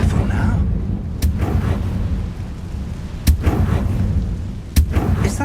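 Fiery blasts from the Confringo spell in Hogwarts Legacy, three sharp booms spaced a couple of seconds apart over a dense rumbling game soundscape, with low voices murmuring beneath.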